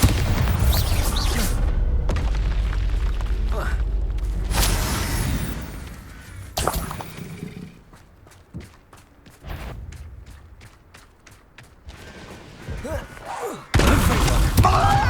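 Spell explosions from Confringo and Bombarder in the wizarding action game Hogwarts Legacy, heavy booming blasts and crackling bursts that swell and fade, broken by a rapid series of sharp impacts and a loud final burst.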